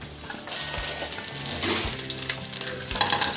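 Finely chopped garlic sizzles steadily in hot oil in a pan, a loud, continuous crackling fry with occasional stirring knocks and no talking.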